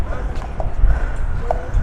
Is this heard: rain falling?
no